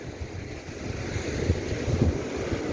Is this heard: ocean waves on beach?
yes